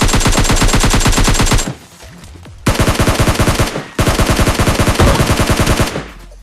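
Rapid automatic gunfire in the mobile video game PUBG Mobile Lite: loud, dense bursts, broken by two brief pauses, then a final burst, with no talking.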